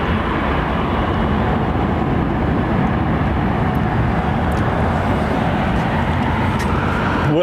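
Airbus A350 airliner at London Heathrow, a loud steady broadband jet roar held at constant level without a clear rise or fade, no voices.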